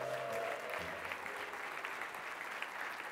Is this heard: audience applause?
yes